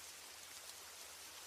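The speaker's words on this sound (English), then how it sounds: "Rain tapped against the windows as dusk bled across the sky." Steady rain patters against windows at dusk, a soft, even hiss of drops with no distinct individual taps, faint and continuous throughout.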